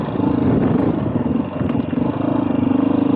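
A 2021 Beta 500 RRS dirt bike engine runs steadily and loudly while being ridden, with a continuous close-up drone that barely dips and no speech over it.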